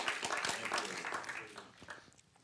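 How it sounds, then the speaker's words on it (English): A church congregation claps together, a dense burst of handclaps that thins and fades over a couple of seconds, moderately distant, with some voices mixed in. "Oh, let's give the Lord a clap already."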